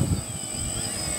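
DJI Phantom FC40 quadcopter motors spinning down, a steady close whir with a low rumble at the start that settles into an even drone.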